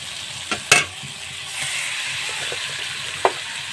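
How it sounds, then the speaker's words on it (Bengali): Chicken pieces drop into well-fried masala in a pan and get stirred, with a steady low sizzle broken by a couple of sharp utensil clanks against the pan. "এখন আমি এখানে যে মাংসটা নিয়েছিলাম সেই মাংসটা দিয়ে দেব।"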